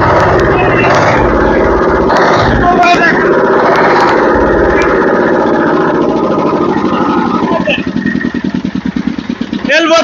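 A used L32 water-cooled diesel engine with a hopper idles right beside its side cover, loud and close. The running drone turns into a distinct rhythmic chugging near the end, and people talk over it.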